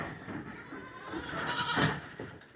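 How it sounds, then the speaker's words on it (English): Young goats bleat nearby amid faint rustling barn noise, one cry rising clearly toward the end. "Hi, baby goats."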